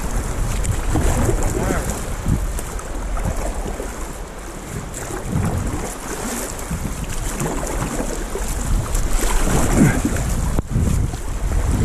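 Rafting on an Alaskan river: steady rushing water and splashing from paddle strokes, with wind buffeting the microphone throughout and occasional voices mixed into the noise.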